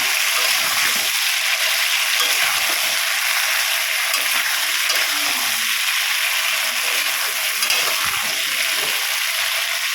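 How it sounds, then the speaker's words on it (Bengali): Chunks of taro and potatoes fry together in hot oil, giving a soft, steady sizzle with faint scraping and stirring knocks underneath, fairly quiet and continuous. "খুব সুন্দর করে আমি তেলের মধ্যে দিয়ে কচুগুলো আর আলুগুলো খুব সুন্দর করে একসঙ্গে ভেজে নেব।"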